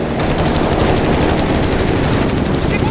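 Heavy machine gun fire from an HMG team in the World War II strategy game Company of Heroes 3, loud and sustained rapid bursts mixed with other gunfire through a dense battle din, with faint voices underneath.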